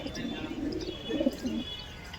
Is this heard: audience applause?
no